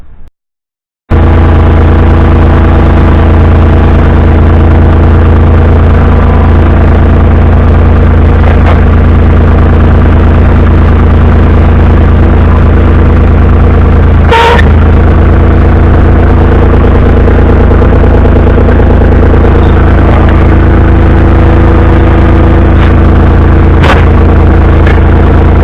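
A truck engine runs loud and close at a steady idle, its deep continuous rumble unbroken, with a sharp clunk near the middle and another knock toward the end.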